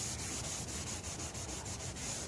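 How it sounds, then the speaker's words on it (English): A Scotch-Brite pad scrubs pinstripe tape residue off a golf cart body being prepped for paint, making a steady rhythmic abrasive rubbing with regular strokes, close and continuous, with no talk. "right now I'm going over where that pinstripe tape residue was with these Scotch-Brite pads and stuff"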